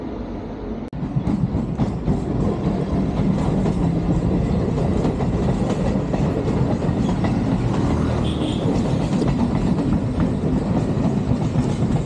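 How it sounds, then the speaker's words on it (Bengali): A local train passing at Kolkata railway station platform, a continuous loud rumble with rhythmic clattering of wheels over rail joints, heard close by for the whole stretch. "লোকাল ট্রেন যাচ্ছে।"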